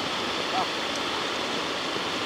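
A creek runs with a steady, rushing wash of flowing water, broad and continuous with no clear breaks.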